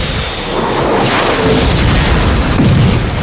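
A loud, sustained explosive roar with rumbling low end, dense and continuous, no speech.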